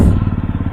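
A parked motorcycle idles after being started near a temple parking area in Almora, Uttarakhand, sounding as a loud, close, rapid and even thumping putter.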